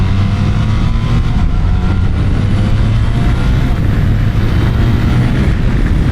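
A BMW R1300RS motorcycle accelerates with a loud, continuous engine drone under heavy wind rush, the rumble staying steady throughout with no distinct pauses.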